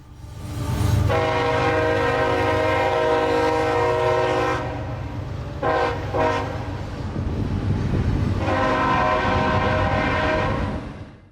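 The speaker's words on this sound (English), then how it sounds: "catching trains like this IO-26 right as we got back into town" Freight train IO-26 rolls past in Georgia near Folkston, its loud chorded horn blaring in long sustained blasts, broken by a brief pause, over the steady rumble of railcars.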